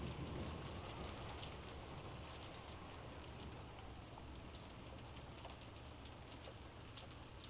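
Soft, steady rain patters continuously in the Umineko no Naku Koro ni visual novel, a faint, even hiss with no voices over it.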